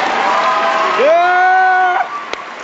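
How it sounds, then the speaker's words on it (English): A school assembly crowd claps and cheers for the MC, the clapping continuous under a loud voice shouting and speaking over it near the microphone. "Round of applause for the MC,"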